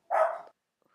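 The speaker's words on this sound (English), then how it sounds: "sorry about my dog barking" A pet dog indoors gives one short, sharp bark close by. Silence follows.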